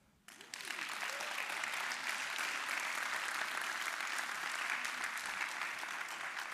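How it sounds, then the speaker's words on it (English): A crowd applauding a travel blogger named Anton at the close of his talk, a sudden start swelling into a full, dense, sustained wall of clapping that carries evenly for several seconds. "Everybody give Anton a big round of applause."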